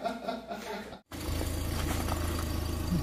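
A car engine drones low and steady from inside the vehicle on a snowy drive through Brovary to a Nova Poshta post office, starting after a brief cut to silence.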